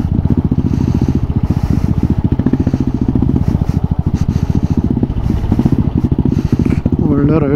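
Motorcycle ridden along an off-road forest trail at night, its engine chugging loud and close with a steady rapid pulse throughout, rattling and clattering over rough ground, with a voice speaking briefly over it near the end.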